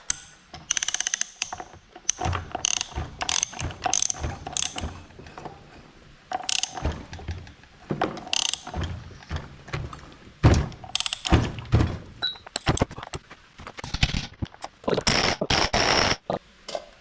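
Snap-on impact gun hammering at a tight size 36 flywheel bolt on a classic VW flat-four engine, delivering repeated loud rattling bursts with short gaps between them, close by.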